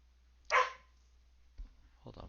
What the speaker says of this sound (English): My dog's being annoying.